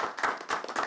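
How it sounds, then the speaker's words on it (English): A few sharp, close hand claps at a city council meeting, three distinct bursts in quick succession with a brief gap between each. "I appreciate that you are clapping"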